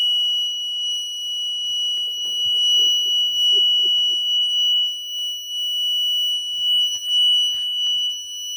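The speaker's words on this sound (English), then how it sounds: "So that's your really, really low battery warning." A battery management system's low-battery warning: a steady high-pitched electronic tone sounds continuously, with faint handling noises and murmurs underneath.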